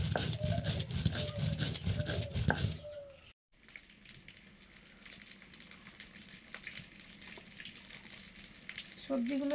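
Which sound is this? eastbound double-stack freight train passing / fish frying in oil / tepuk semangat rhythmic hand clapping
fish frying in oil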